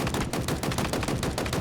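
Rapid full-auto gunfire from a weapon in Halo Infinite, loud and close, a dense continuous stream of shots with no talking.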